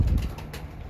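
A golden pigeon perched on a rooftop coos softly in a brief low murmur, with faint wing flutters and open-air background around it.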